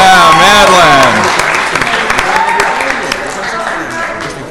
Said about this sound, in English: Let's give Madeline some applause.